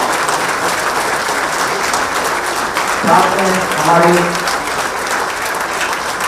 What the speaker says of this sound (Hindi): जोरदार तालियों से मैं स्वागत किया जाए